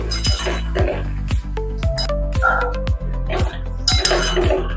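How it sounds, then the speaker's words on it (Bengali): Paneer curry with cashews stirred in a metal kadai, a utensil repeatedly clinking and scraping against the pan in a steady rhythm, close and fairly loud. "তো এই সময় একটু কন্টিনিউয়াসলি এটা একটু নাড়িয়ে যাবেন।"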